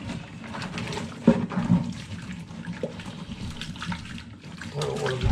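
Warm tap water runs steadily while a Lego base plate is rinsed and scrubbed, with uneven splashes and a few knocks of handling; a person speaks briefly over the flow.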